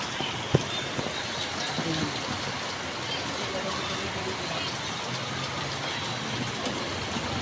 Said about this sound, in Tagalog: Habang tayo nakapila guys, ay naulan.